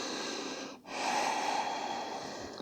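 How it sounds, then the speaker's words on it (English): One slow, deep, airy breath is drawn close by in a calm yoga session, with a short pause before a long, steady exhale. "Continue breathing."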